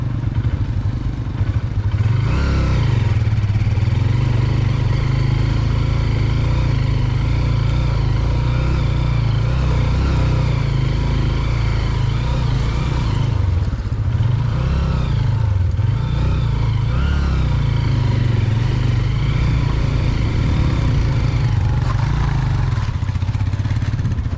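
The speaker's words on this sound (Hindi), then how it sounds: "बाइक को जोर में लाओ, जोर बनाओ बाइक का, फिर खींचो से।" A motorcycle engine runs steadily and loudly throughout, with mid-range engine tones rising and dipping as it revs, on a forest riding course; no speech is heard.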